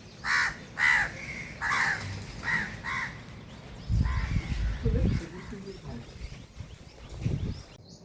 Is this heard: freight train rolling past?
no